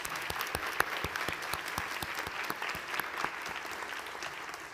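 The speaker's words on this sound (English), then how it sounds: "Let's give them a round of applause." Steady audience applause at a high school graduation ceremony, dense overlapping claps with no voices, sustained evenly at moderate loudness through the whole stretch.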